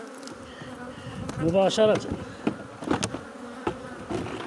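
Honeybees drone around hive frames during a colony split, a dense buzzing with several louder passes and handling knocks, while someone briefly speaks.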